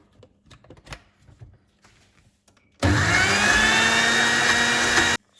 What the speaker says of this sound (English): Now put the boiled chana dal into the mixie,